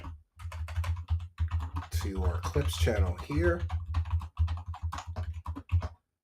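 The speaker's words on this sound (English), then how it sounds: "I know you can hear my keyboard." A computer keyboard clatters in quick, irregular bursts of keystrokes close to the microphone, running steadily beneath someone talking.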